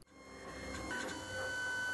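A 3D printer printing a small plastic part, its motors giving a steady whirring hum with faint rising tonal whines, close and continuous with no talking.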